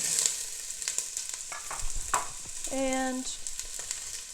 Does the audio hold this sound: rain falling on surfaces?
no